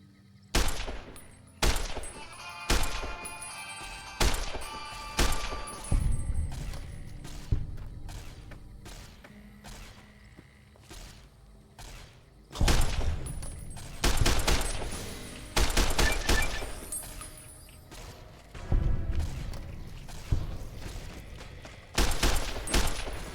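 Repeated gunfire from shooting ghouls in the video game Fallout: New Vegas, with a sniper rifle in use: loud sharp shots in irregular bursts and single cracks, some rapid clusters, over a low game ambience.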